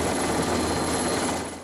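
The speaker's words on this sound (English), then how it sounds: "This is the view of our Navy helicopter landing from the ship's 230-metre long flight deck." A Navy helicopter landing on the 230-metre flight deck of an amphibious assault ship, heard as a loud, steady broadband rotor and turbine roar throughout, easing slightly at the end.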